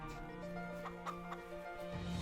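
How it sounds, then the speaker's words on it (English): Chickens clucking inside a coop holding about 250 full-grown hens, a steady overlapping murmur of clucks with a few sharper calls rising above it, close and continuous. "I got 250 chickens in there."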